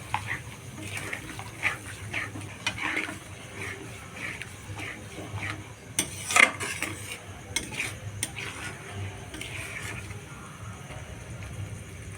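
Masala loosened with water from rinsing the mixer jar, stirred and sautéed in a pan for a paneer dish: repeated close spoon scrapes and clinks over a low, continuous sizzle, with a sharper clatter midway.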